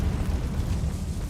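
In Hogwarts Legacy, a Confringo fire spell goes off as a deep, rumbling blast that holds steady for its brief length, with no talk over it.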